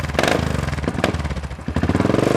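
A 2018 Royal Enfield GT535 single-cylinder motorcycle revs hard, its engine rising and falling quickly in close, loud bursts of throttle.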